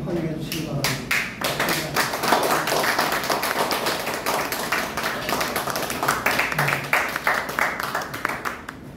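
A seminar audience breaks into strong applause to welcome a lecturer, with many close, distinct claps forming a steady rapid patter that runs throughout and thins slightly toward the end.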